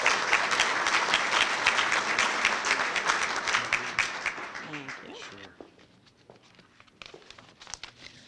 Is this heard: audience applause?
yes